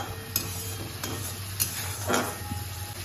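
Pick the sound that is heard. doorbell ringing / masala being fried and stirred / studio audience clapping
masala being fried and stirred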